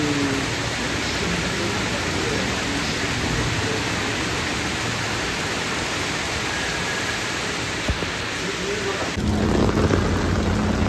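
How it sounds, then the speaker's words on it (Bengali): Heavy rain pouring down in Digha, a loud, unbroken wash of hiss with a low rumble underneath, steady throughout and getting a little stronger near the end. "এই দেখো কি বৃষ্টি হচ্ছে, একদম জল জমে গেছে বৃষ্টিতে।"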